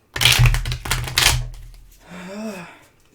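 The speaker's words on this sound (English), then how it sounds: "One more shuffle, please." A tarot deck is shuffled up close in two quick riffling bursts, followed by a brief spoken remark.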